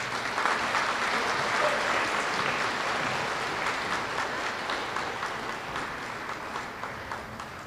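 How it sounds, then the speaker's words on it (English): Audience applause at an elementary school awards assembly for first grade students, a dense, sustained crowd of clapping hands in a large room, steady and gradually easing. "First grade students, round of applause."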